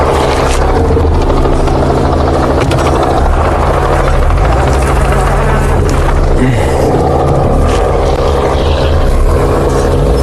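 A rescue helicopter close by, its rotor and engine roaring loud and unbroken throughout, with a steady throbbing drone that masks everything else.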